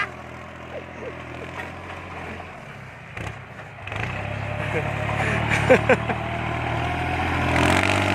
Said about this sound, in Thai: โอ้แรงนะครับคันนี้เสียงท่อเลย